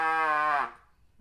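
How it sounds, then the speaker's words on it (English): A tense, pinched trumpet buzz made with overly tight lips on a beginner's embouchure, sounding like a dying duck: one strained, reedy, harmonic-rich tone held for about half a second, then cut off into silence. "That's not a trumpet. That sounds like a dying duck"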